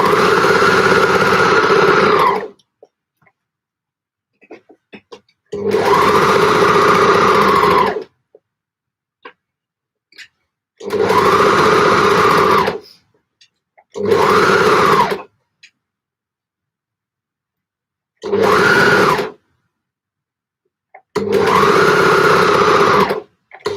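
Sewing machine stitching the seams of gable tops, running in six loud, steady bursts of a few seconds each, separated by silent pauses.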